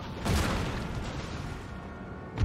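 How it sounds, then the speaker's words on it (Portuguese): Cannon fire in Napoleon: Total War: a deep booming shot opens, followed by a rumbling, rolling battlefield wash, with another low thump breaking in at the end. "Os tiros não estão indo numa direção boa."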